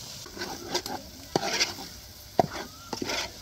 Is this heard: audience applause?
no